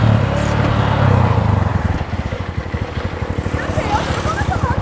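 A BMW R1200 motorcycle engine idles nearby with a rapid, pulsing thump, steady and fairly loud after a short stretch of talk at the start.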